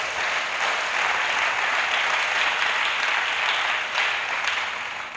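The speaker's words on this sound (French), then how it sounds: "Acclamation à Jésus-Christ" A congregation applauds in steady, continuous clapping from many hands, fairly loud and even, with no speech over it.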